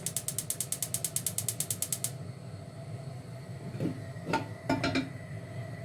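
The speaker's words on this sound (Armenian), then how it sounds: "Իսկ հիմա գազօջախը վառեմ" A kitchen gas stove burner is lit: a quick, even run of sharp igniter clicks rattles for about two seconds, then a soft, low burner hum follows with a few light clatters of cookware nearby.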